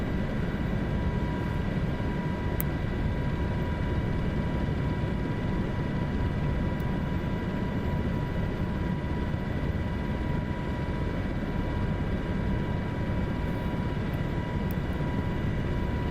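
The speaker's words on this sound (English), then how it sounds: "It's such a good little helicopter." Steady, loud helicopter cabin noise from engine and rotor, droning continuously with no speech for the whole stretch, the small, freshly overhauled helicopter holding a constant hum and whine throughout the flight.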